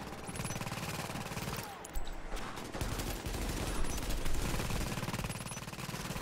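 A boss firing at a turret in the video game Tom Clancy's The Division, a dense, continuous rattle of rapid automatic fire with brief pauses, close and loud throughout.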